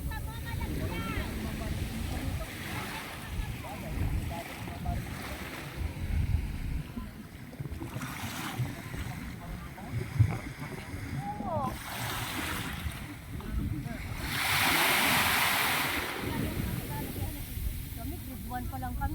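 Moderate sea waves at a beach in Puerto Galera, a steady low wash of water with occasional brighter surges and splashes, one longer swell cresting near the end, under light background voices.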